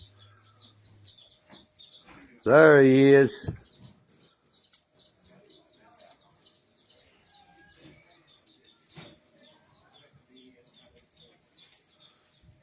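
Small birds chirp faintly and repeatedly up in the ceiling of a post office in Dalton, Georgia, a steady scatter of high tweets throughout, briefly covered by a man's short loud remark near the start.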